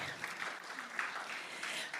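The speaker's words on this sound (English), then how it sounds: "Let's give ourselves a round of applause." A lecture audience at a Bradley alumni event applauds, a soft, steady patter of many hands that sounds fairly distant and holds evenly for about two seconds.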